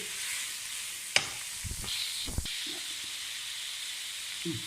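Pizza masala and vegetables frying in a pan with a soft, steady sizzle and hiss, broken by a sharp clink and a few brief scraping stirs, quiet and close.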